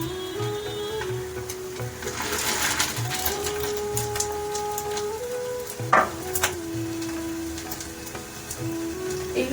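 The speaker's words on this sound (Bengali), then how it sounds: "এইভাবে ছোট ছোট আকারের বড়ার মতো করে দিই ভেজে নিয়ে" Small fish roe fritters frying in hot oil in a pan, a steady sizzle and crackle running throughout with a few scraping clicks and one sharper knock near the middle, alone with no talk.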